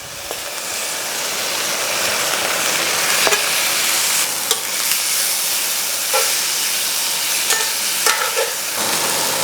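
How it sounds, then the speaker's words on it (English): Steak nuggets searing in butter in a cast iron pan, a steady loud sizzle and hiss throughout with occasional pops and stirring clicks. "All right, so now it's time to sear our steak."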